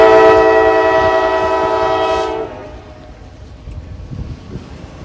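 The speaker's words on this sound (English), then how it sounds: "eastbound intermodal train would appear on the Norfolk Southern Fostoria district" A loud, sustained horn chord from a Norfolk Southern eastbound intermodal train blares for about two seconds then cuts off, leaving a low rumbling roll of the passing train.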